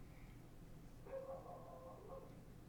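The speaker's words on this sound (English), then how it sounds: "Hope you guys can hear that dog." A dog barks faintly in the background in a couple of short bursts, distant and under low room noise.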